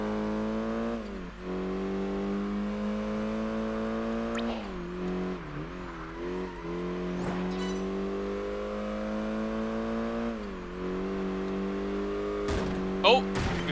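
A Mitsubishi race car engine in Project Gotham Racing 4 holds a steady, loud droning note that rises and dips with gear changes, with a couple of sharp wall-impact knocks toward the end.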